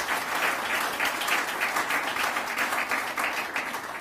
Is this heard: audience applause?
yes